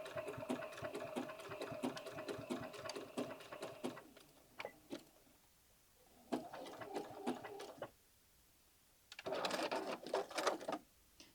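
A sewing machine stitches a scrappy appliqué onto a quilted-sleeve denim jacket, running in several rapid mechanical bursts separated by short pauses, close and fairly quiet, with no talking.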